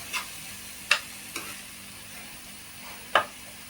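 Cauliflower fry with pepper powder being stirred in a pan, a few sharp scraping clinks spaced out over a low, steady sizzle, close and fairly quiet.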